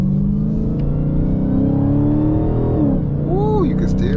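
A Doberman Redeye car driving gives a loud, continuous engine whine from inside the cabin, its tones holding steady and then sweeping upward as the car accelerates.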